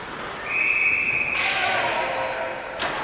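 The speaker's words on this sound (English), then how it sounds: "We got a whistle for the melee in behind the net." Referee's whistle at a youth boys' ice hockey exhibition game, a single loud sustained blast lasting about a second over rink crowd noise, followed by a brief fainter chirp near the end.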